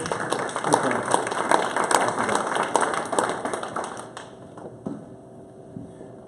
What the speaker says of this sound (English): Round of applause for Gene.